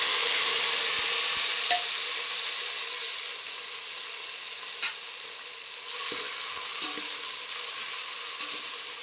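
Chopped onions, tomato and green chillies fry in hot oil, giving a loud, steady sizzle with occasional stirring scrapes and small pops throughout.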